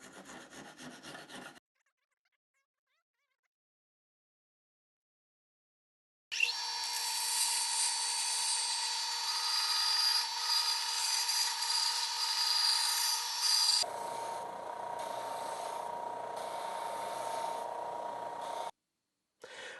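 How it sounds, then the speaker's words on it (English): A chisel pares small wooden nubs flat on a handmade sanding block, giving a steady close scraping rasp for several seconds after a silent pause, then a lower, rougher stretch of cutting before it stops. "then I'm going to use my chisel to make them flat"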